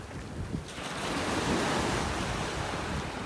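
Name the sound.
ocean waves on the beach in North Naples, Florida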